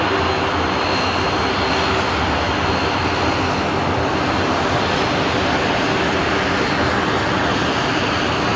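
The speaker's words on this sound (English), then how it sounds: "I'm gonna pick up Qantas Link 1914 coming in here." A QantasLink Dash 8 turboprop arriving at Brisbane Airport, its engine and propeller roar steady, loud and close for the whole stretch with no voices over it.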